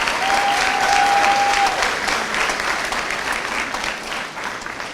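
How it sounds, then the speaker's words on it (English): Audience applause at a school graduation ceremony in Eleuthera, a steady, dense wash of clapping from a large crowd that holds loud throughout and eases slightly toward the end, with a brief whistle-like tone early on. "Let's give them a round of applause for that."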